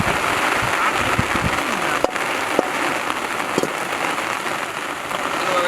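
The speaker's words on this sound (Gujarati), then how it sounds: "વરસાદ આવી ગયો" Steady rain falls and patters on surfaces outdoors during fish curry cooking, a dense continuous hiss with a few sharper drops, moderately loud and even throughout, with no voices.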